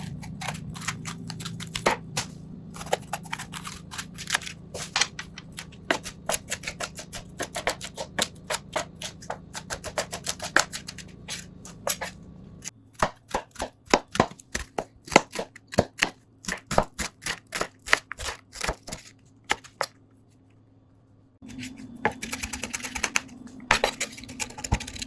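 Green peppers and red onion are chopped on a cutting board with a knife, giving rapid, crisp, close knife taps in uneven runs and a brief pause near the end before the chopping resumes.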